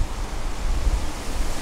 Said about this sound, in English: But what this waterfall gives you is an amazing backdrop, and it's quite powerful